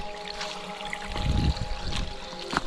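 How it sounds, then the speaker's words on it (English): A small cascade on a river tributary at Williams River Falls in Barrington Tops National Park, NSW, makes a steady close trickling and splashing rush with a low swell of flowing water, and no voices. "A little cascade here you can hear and see."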